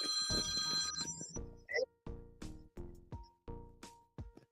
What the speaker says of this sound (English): And there goes the phone,